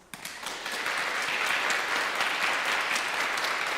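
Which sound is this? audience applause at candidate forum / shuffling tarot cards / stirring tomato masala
audience applause at candidate forum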